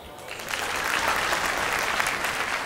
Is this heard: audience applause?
yes